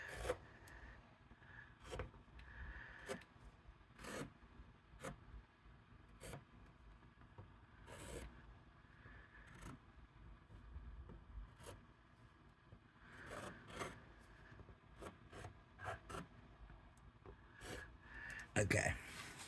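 A paper card template, Crafter's Companion Green Template Library #15 pop-out square card, being cut out, giving repeated close scraping and snipping strokes in irregular bursts over a soft background rustle.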